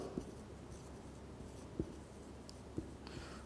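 Pen or marker writing on a board during a chemistry lecture, soft scratchy strokes with a few sharper taps spaced about a second apart, fairly quiet against low room noise.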